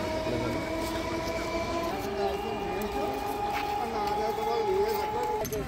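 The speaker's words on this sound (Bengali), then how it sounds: "বর্ধমান কাটোয়া ট্রেন চলে এলো কৈচর স্টেশনে" A Bardhaman–Katwa local train at Kaichar station, a continuous rumbling roll with sustained whining and squealing tones, close and fairly loud throughout, under a voice speaking over it.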